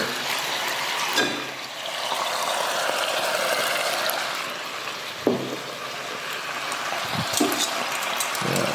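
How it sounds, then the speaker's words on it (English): Onions frying in a pan together with steak in a Chinese home kitchen make a loud, continuous sizzle, broken by a few clanks and scrapes of utensils against the pan. "I'm also gonna just dump in these onions here to cook it with the steak"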